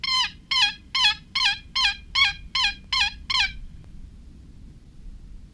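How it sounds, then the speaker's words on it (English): A run of nine quick, evenly spaced wild turkey gobbles, answering a hen call, rings out close and loud, then stops, leaving quiet outdoor background. "See if I can get any gobblers to respond to my hen call."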